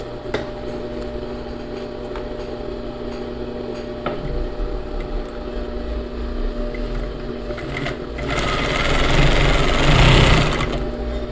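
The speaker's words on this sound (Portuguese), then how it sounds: "Vou fazer a costura aqui do meio." A sewing machine stitches the middle back seam of a flared skirt, a close, steady mechanical whirring and rattle that grows louder and faster toward the end of the run.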